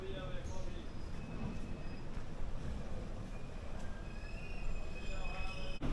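Train passing on the neighbouring track during a night halt at Kanthi station on the South Eastern line, a steady close rumble of wheels and carriages with faint high squeals.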